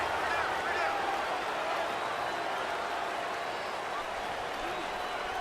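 A steady wall of stadium crowd roar in the Madden 19 football video game, dense and unbroken throughout, with the din of a loud home crowd.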